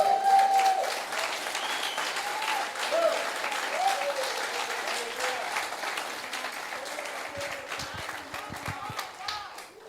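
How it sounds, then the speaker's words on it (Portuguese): A church congregation breaks into sustained applause during a sermon, broad clapping filling the room with a few voices and whistles rising over it, then thinning slightly toward the end. "Você pode aplaudir Jesus?"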